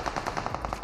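Rapid automatic gunfire in the mobile battle royale game BGMI, a steady burst of about nine evenly spaced shots, loud and close with no talking.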